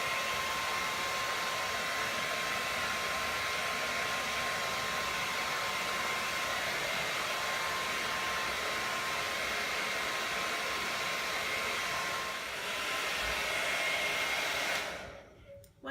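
A hair dryer blows a steady, gentle stream of heat over a freshly screen printed area of textile in a print room, a continuous even whoosh that runs unbroken and then cuts off near the end.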